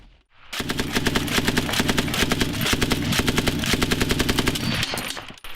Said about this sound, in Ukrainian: Під гуркіт пострілів кулеметник заправляє набої у стрічку і дає відповідь.